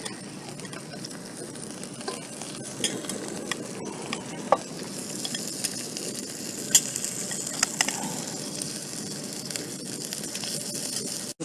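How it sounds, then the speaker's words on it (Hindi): Chicken pieces sizzle steadily in a karahi for Shinwari chicken karahi, a continuous close frying hiss with occasional small pops and stirring clicks, no talking. "अब इसके अंदर चिकन ऐड करेंगे।"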